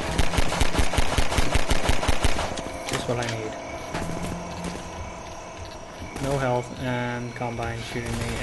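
Rapid automatic gunfire from the Half-Life mod Other-Life hammers out in a dense burst, then gives way to scattered game sounds while someone talks over the action.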